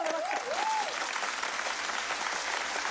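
Steady applause from a studio audience greeting a guest on a Spanish-language talk show, filling the whole stretch at an even level; a brief rising whistle-like tone rides over it at the start.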